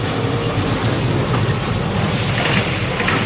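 Heavy monsoon rain drums steadily on a truck, a loud dense wash of noise with a low rumble beneath it and no letup through the short stretch.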